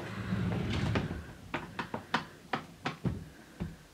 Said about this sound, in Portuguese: Abre as gavetas.